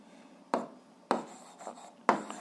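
Pen strokes on paper while solving an 8th-grade algebra exercise, three or four short sharp scratches close by, separated by quiet gaps.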